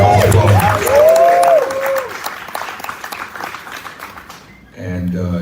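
Crowd applause and cheering at a Breonna Taylor town hall and rally, starting strong over raised voices and fading out, before a speaker begins talking close to the microphone.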